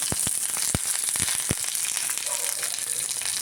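Green chilli, garlic, ginger and curry leaves sauté in a hot pan, a soft continuous sizzle broken by several sharp clinks of a stirring spoon early on, then just the frying hiss.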